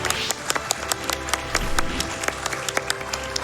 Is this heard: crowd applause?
yes